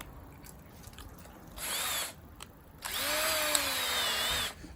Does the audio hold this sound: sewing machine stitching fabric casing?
no